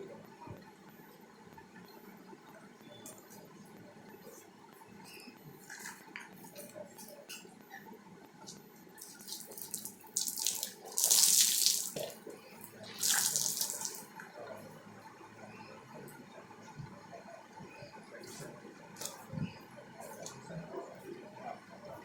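Tap water runs steadily during hand-washing of clothes, low and continuous, with two louder splashing, gushing bursts around the middle before it settles back to a quiet trickle; no one speaks.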